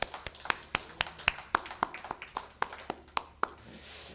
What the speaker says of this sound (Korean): 우리 하나님께 영광의 박수로 이 시간 올려드리기 원합니다